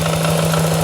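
A Honda Click v3 scooter engine runs at a steady, close idle just after magneto cleaning, a brief, even mid-pitched hum with a faint vibrating pulse.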